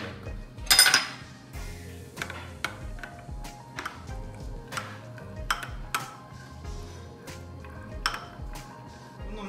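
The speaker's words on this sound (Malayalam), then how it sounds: "നമ്മൾക്ക് എടുത്തു വച്ചേക്കുന്ന ജെലറ്റിൻ മിൽക്കിലേക്ക് ആഡ് ചെയ്യാം. നല്ലോണം ഒന്ന് മിക്സ് ചെയ്ത് വെക്കാം" Gelatin being stirred into milk for panna cotta, a spoon giving light irregular clinks and taps against a bowl, with one louder clatter near the start and no talking.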